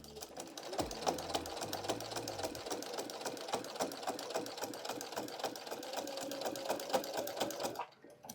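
A sewing machine backstitching through Minky fabric for an embroidered blanket runs in a fast, steady, close mechanical rattle before stopping at the end, with brief low speech early on.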